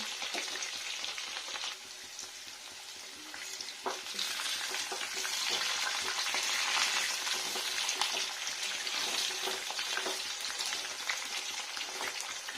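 New potatoes frying in a pan give a steady, close crackling sizzle with occasional stirring clinks, and no voices.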